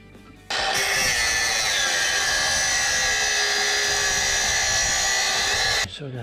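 A power tool cuts a metal mount for an e-bike swingarm, a high-pitched whining grind that starts abruptly, holds loud and steady for about five seconds, then stops.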